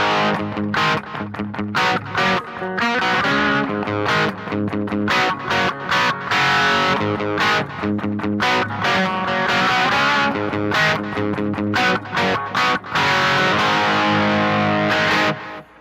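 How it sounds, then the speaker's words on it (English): An electric guitar runs through an LPD 87 pedal set for heavier drive, producing a loud, thick distorted tone with chugging chords and busy riffs played continuously and alone for about sixteen seconds. "The other pedal I got here that I use for the heavier drive is the LPD 87"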